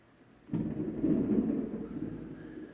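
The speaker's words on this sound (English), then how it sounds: "We do have a good old thunderstorm roaring up, so that is not special effects." A thunderstorm roars up with a sudden low crack that swells into a long, rolling rumble of thunder, moderately loud and sustained before slowly easing, with no voices.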